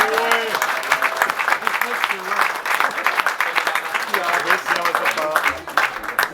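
An audience at a live Wienerlied show in a Viennese tavern claps warmly in December. The applause is dense and sustained, with a voice speaking over it near the start and a few cheers mixed in.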